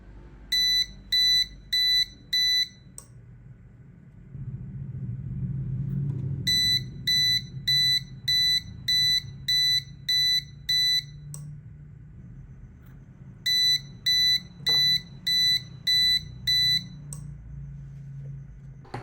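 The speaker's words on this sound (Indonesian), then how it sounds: "maka di sini buzzer akan secara otomatis nyala" An Arduino gas leak alarm buzzer beeps in quick bursts of about five short electronic tones, with the bursts repeating three times and a low hum between them, loud and close with no voices.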